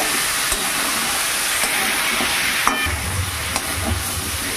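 Lentils and pumpkin are sautéed in a pan with spices, giving a continuous loud sizzle and hiss. A spoon scrapes and stirs through the mixture with occasional soft knocks, and no one speaks.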